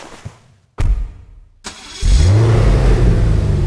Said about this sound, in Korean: 물론 여기 탈 순 없지만 배기만 한번 들어봅시다